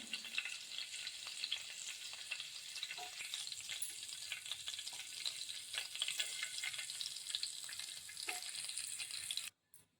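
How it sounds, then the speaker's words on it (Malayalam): Steady, dense crackling and sizzling of mustard seeds spluttering in hot oil, close and loud, continuing without pause before cutting off abruptly at the end. "നമ്മുടെ കടുകെല്ലാം പൊട്ടിക്കഴിഞ്ഞ്"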